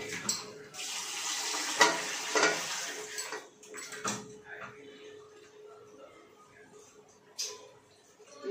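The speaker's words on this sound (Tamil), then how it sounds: "அரிசி கழுவி எடுத்துக்கிட்டேன்" Rice is rinsed in water in a home kitchen while cooking vegetable biryani, with steady close sloshing and splashing, a few clinks of a vessel and a faint background hum.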